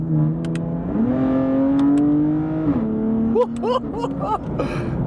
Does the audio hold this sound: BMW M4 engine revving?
yes